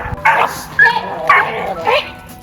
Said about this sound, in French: Ça, c'est les chiens qui étaient juste devant l'endroit où on dormait.